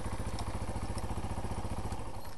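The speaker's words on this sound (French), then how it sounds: "Donc c'est un moteur qui pète bien, ça j'aime beaucoup le bruit qu'il fait." A Yamaha TW 125 motorcycle with its stock exhaust runs steadily nearby, its single-cylinder engine giving a loud, even, rapid popping throb with a rattly edge, alone and unchanged throughout.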